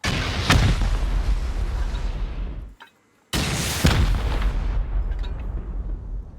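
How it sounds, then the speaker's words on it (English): Two heavy booming blasts from C4 charges hitting a turret at a clan base in a survival video game, each a sharp loud burst with a long rumbling tail, split by a moment of near silence. "Looks like I actually hit the turret with this C4 though."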